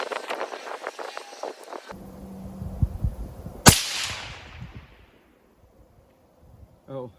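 A single 6.5 Creedmoor rifle shot fired outdoors toward a 440-yard target: one sharp, loud crack followed by a long, fading rolling echo. Someone talks before the shot, and a voice briefly returns after the echo fades.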